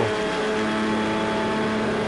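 Race cars in Project Cars 2 approach on the Daytona speedway during a CanAm challenge, a steady engine drone holding at constant loudness for two seconds with no talking.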